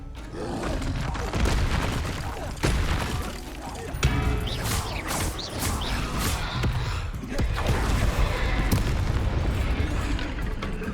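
Expelliarmus spells cast during a duel in Hogwarts Legacy crash out as deep booms and bright crackling bursts over a steady, loud battle din, with several sharp hits in quick succession.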